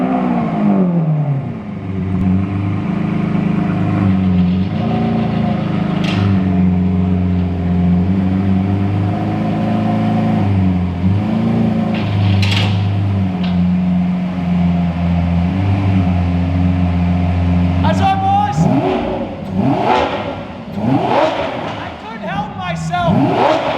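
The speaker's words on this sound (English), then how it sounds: "This is a cold start on a stock exhaust on the new supercar." A Lamborghini Aventador with stock exhaust cold-starts and settles into a loud, steady rumbling idle, with sharp revs and crackles breaking in toward the end.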